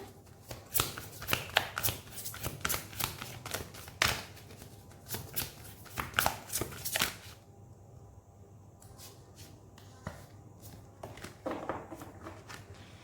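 Tarot cards are shuffled and drawn during a reading: a run of quick, close papery flutters and slaps, then a quieter stretch with a few soft card flicks and taps.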